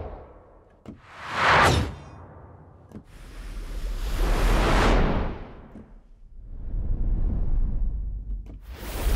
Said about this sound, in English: Let's take a listen to some of the whooshes.